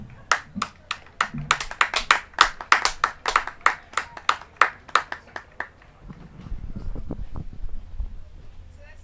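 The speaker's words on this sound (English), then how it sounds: "Let's give them a round of applause." Clapping from a crowd at a dockside Gold Cup Challenge rowing race as women's crew returns, a steady burst of hand claps for about six seconds, then fading into a low rumble of crowd noise and chatter.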